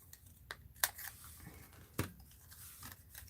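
Scissors cutting into paper for a mixed-media art journal piece, a handful of quiet crisp snips and crunches spaced irregularly, close up with a faint background.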